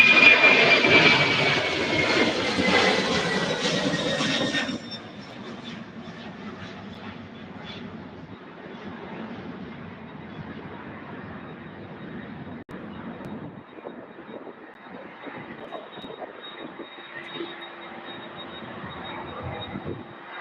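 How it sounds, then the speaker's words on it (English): A UPS Boeing 767-300 jet departs an airport, a loud roaring engine blast at first that falls away into a fading rumble as it climbs out into the distance. "UPS flight 2134 head out to Syracuse, New York. Boeing 767-300."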